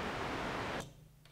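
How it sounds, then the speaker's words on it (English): Pink noise from a Dreadbox Dystopia synthesizer module hisses steadily, broad and soft, then cuts off abruptly, leaving a low hum and a brief faint click. "This is pink noise."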